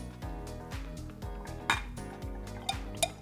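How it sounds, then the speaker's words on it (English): A punch of Campari and red sweet vermouth being stirred in a vessel, with quick metallic clinks and scrapes of a utensil against the container, repeated in a fast irregular rhythm over background music. "Give it a nice stir."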